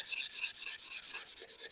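Quick back-and-forth rubbing strokes of 220 grit sandpaper on a custom MicroKorg module, about a dozen strokes in under two seconds, close and hissy with no talking.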